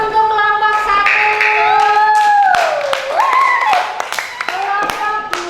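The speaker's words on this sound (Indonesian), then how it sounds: "Tepuk tangan untuk kelompok 1" A primary-school class applauds a group, with brief clapping bursts under loud, tuneful children's voices calling out together.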